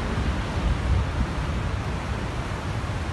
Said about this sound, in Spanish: Mira el mar, todo movido.